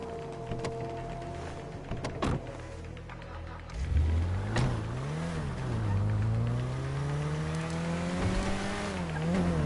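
A car drives in a PS4 video game, its engine droning and revving up and down in pitch with continuous road and motor noise, steady and fairly loud throughout.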